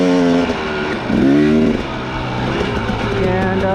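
A 2017 Husqvarna TX300 two-stroke dirt bike engine revs close by, a rough buzzing drone that rises sharply in pitch once, falls back and climbs again, with someone talking over it.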